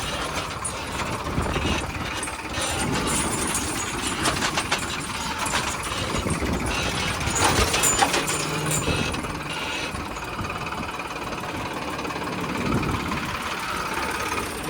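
A Powermax T20 tractor engine runs steadily at close range, its rumble mixed with rattling, clattering machinery as an attached rotavator churns a field.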